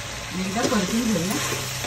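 Mushroom chilli with spring onion greens being stir-fried in a pan, giving a close, steady sizzle with scraping stirs through the middle.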